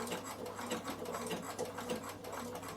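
A Bernina sewing machine stitches wool applique in a crisscross zigzag, running in short pulsing bursts close up, with no talking.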